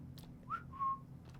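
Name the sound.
imitated whistle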